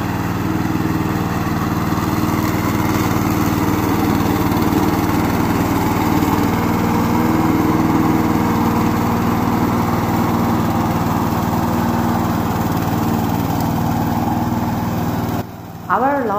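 A remote-controlled lawn mower engine drones steadily and loudly throughout, with a constant mechanical hum that cuts off briefly near the end.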